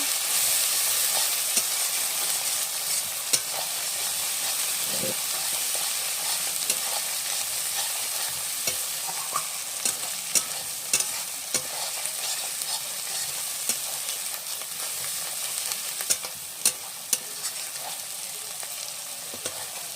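Spiced chicken and kachu (taro) being stirred in a pan, a steady close sizzle and hiss with scattered scraping clicks of the spoon throughout, no voices.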